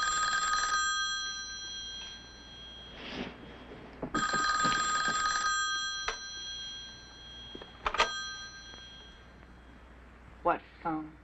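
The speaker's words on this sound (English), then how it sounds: "Whose turn is it to take the phone off, Dorothy?" An old telephone bell rings in repeated loud bursts, with people talking between and after the rings.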